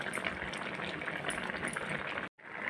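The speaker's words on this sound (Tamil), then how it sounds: "இப்போ வந்து குழம்பு வந்து நல்லா கொதிச்சிருச்சு" A drumstick tamarind curry (murungakkai puli kulambu) bubbles in a pot, a soft, steady simmering hiss and gurgle close by that cuts out briefly near the end.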